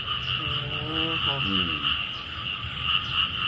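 Frogs croak in a rhythmic run of pulsed calls, close and clear, over a constant high insect buzz in a night-time outdoor setting.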